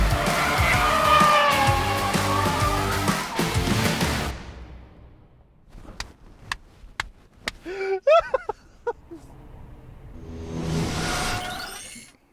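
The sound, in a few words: car drifting with tyre squeal on a race track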